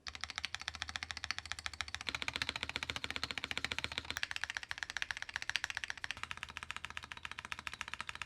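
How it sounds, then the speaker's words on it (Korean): Stabilizer keys on a Razer BlackWidow V4 Pro 75% wireless gaming keyboard are pressed in rapid repeated strokes, a dense, even clatter of crisp clicks close to the microphone with no talking. "먼저 키보드의 기본기 스테빌라이저 키부터 체크 한번 해보도록 하겠습니다"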